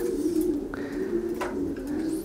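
Racing pigeons coo in soft low murmurs, a couple of birds overlapping, with a faint chirp or flutter over quiet background hiss.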